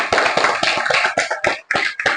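A small group of people, likely students in a classroom, claps in a short burst of irregular, loud, close hand claps that trail off unevenly over about two seconds.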